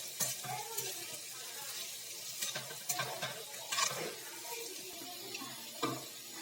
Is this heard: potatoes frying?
yes